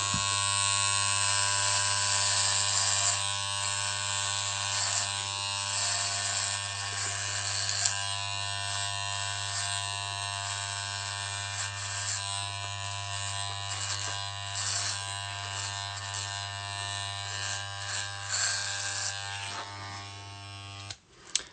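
An electric shaver trims a beard with a loud, steady, close-up buzz that holds unbroken for about twenty seconds before cutting off at the end.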